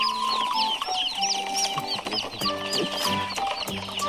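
A flock of chickens clucks and chatters continuously, many overlapping calls close by, with higher chick-like peeps mixed in.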